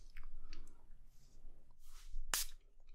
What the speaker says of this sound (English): This is like a powerful spritz.